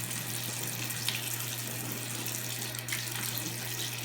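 Shower water running steadily and close, a continuous hiss with a low hum underneath, while soap is lathered by hand; faint brief rubbing touches break through twice.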